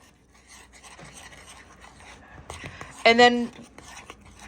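A spoon scrapes and rasps through thick muffin-mix bread batter made with nacho cheese soup, with steady rubbing strokes in a bowl. A person talks briefly over it, and a sharp tonal clink sounds near the end.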